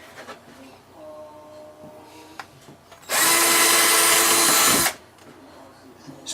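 A power drill bores straight down through wood on a ham radio cabinet build, a loud, steady whine of just under two seconds rising sharply from quiet workshop background and then cutting off.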